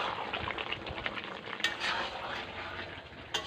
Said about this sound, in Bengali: এবার একটু আমি নেড়ে ছেড়ে নিচ্ছি, যাতে আলুটার ভিতরেও পুরো তেল মশলা ঢুকে যায়।